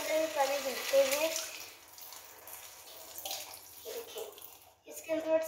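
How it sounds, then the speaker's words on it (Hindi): Tap water runs into a bottle indoors, a faint, uneven watery trickle with a few splashy bursts, while someone talks and a voice is heard. "इसके अंदर भी पानी भरते हैं"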